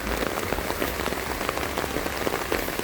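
Heavy typhoon rain in Mindanao pours steadily onto surfaces, a dense, close hiss with scattered drop impacts and no voices.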